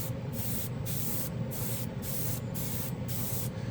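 A Badger 105 Patriot airbrush with a 0.5 mm needle sprays SMS metallic paint, a close, steady hiss broken by brief gaps about every half second.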